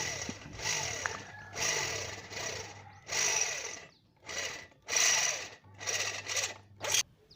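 An electric drill whirs in repeated short bursts with brief pauses between them, close and fairly loud, with no voices.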